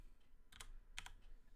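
Keyboard shortcut keys, such as B for brush and E for eraser, are pressed while digital concept art is drawn. Two quick clusters of soft key clicks sound faintly over a low background hum.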